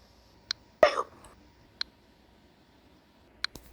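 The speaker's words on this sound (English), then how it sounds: "I got hiccups at guitar practice." A girl's hiccups after guitar practice, several short sharp hiccups spaced irregularly, close and clear in a quiet room, one followed by a brief breathy sound.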